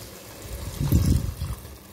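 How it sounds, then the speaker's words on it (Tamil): Water pours from a cup into a cooker holding mutton for mandi biryani, a short low gushing splash that swells, then tapers into a soft trickle. "நான் எடுத்த கப்பால் 2 கப் அளவு தண்ணி சேர்த்துருக்கேன்"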